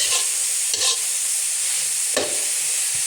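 A masala with poppy seeds, cooked for green mutton chops, hisses loudly and evenly in a hot pan, with a few brief scraping bursts as it is stirred and no voices.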